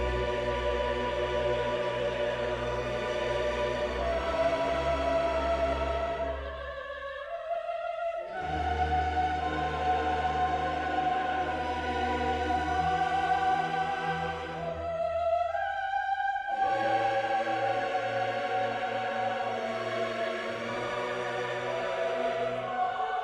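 Recorded Bach chorale: sustained, full harmonized chords moving slowly in three long phrases, each separated by a brief pause, heard alone without any talking.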